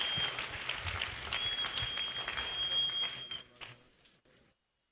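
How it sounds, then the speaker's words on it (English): A church congregation clapping their hands together, rapid dense applause with a faint steady tone underneath, going on for several seconds before thinning out and stopping abruptly. "Put your hands together for Jesus."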